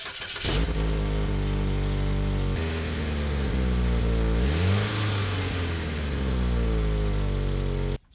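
A Chevy Equinox with a broken muffler starts with a burst, then its engine idles loudly and raspily, revving up once in the middle before settling back, close by, and cutting off abruptly at the end.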